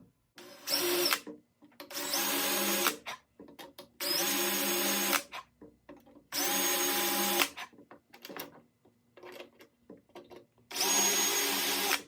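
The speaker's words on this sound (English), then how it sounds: "So I'm going to try drilling them" A power drill bores out spot welds on a steel .50 cal ammo can in loud whining bursts of one to two seconds each. Five bursts are separated by short quiet gaps, close up.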